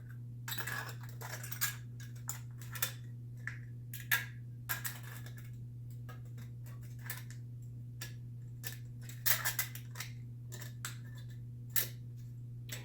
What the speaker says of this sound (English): And now I'll just use scissors to trim up to the line and around the line.